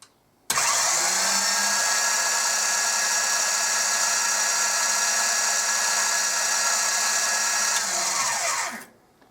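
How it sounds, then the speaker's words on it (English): A Wolf VR5 valve refacer's workhead motor, a brushed shunt-wound unit driving a spur reduction gearbox, starts up and runs with a loud, steady mechanical whine and hum for about eight seconds, then winds down and stops. "It's a brushed shunt wound motor with a reduction gearbox, spur gearbox"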